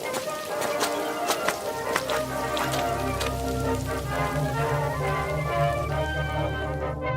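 Rain falls steadily at night as two people walk with their shopping; faint patter and scattered drops sound under a soft low rumble, with no clear talking.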